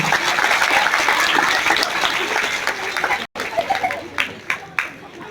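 A crowd claps loudly to welcome guests with flower bouquets at an Independence Day programme in a government higher primary school; the applause is dense at first, then thins to scattered claps, with voices heard alongside.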